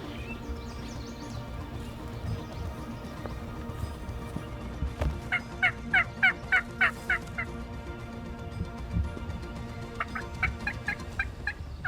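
Wild turkeys gobble at a distance in Quebec's Eastern Townships during a turkey hunt, two bursts of rapid rattling calls over a quiet outdoor background.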